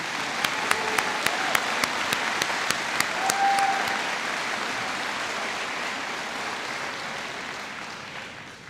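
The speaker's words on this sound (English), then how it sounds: "please join me in applauding them for their commitment to learning" Steady audience applause fills a high school graduation ceremony in a large hall, a broad continuous wash of many hands that slowly fades, with a few sharp clicks near the start.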